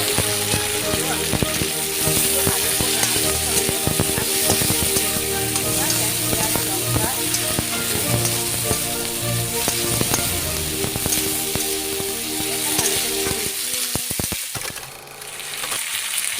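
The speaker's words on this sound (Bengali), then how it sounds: "দেখো মশলাগুলো কিন্তু একদম ভাজা ভাজা হয়ে গেছে" Shrimp frying in a pan with okra, potato, onion, garlic and chili gives a dense, steady sizzle that runs loud and close, dipping briefly near the end.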